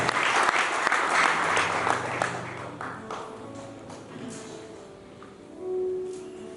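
Congregation applauding during a church sermon, a burst of clapping that is strongest at first and gradually fades into scattered claps, with faint voices and a brief tone near the end.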